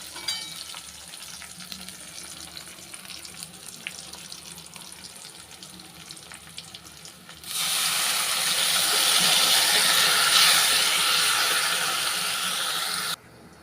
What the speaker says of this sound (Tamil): தூள் சேர்த்துட்டு புளித்தண்ணியை சேர்த்துக்கிறலாம்